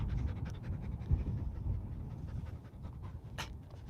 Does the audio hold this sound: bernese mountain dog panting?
yes